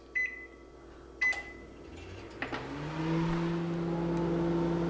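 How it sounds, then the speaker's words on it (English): An 1100-watt microwave runs off a Bluetti AC180 portable power station: a few sharp beeps and clicks, then a steady low hum with a rising fan whine settling into a continuous drone. "We've got an 1100 watt microwave. So let's see how it goes and if it can run this."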